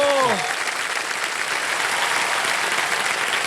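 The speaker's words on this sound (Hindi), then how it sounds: "जोरदार तालियां शिवानी के लिए" Studio audience applause for contestant Shibani Bedi on a televised puzzle game show, a dense, steady wash of clapping filling the room throughout, with a brief tonal sting at the very start.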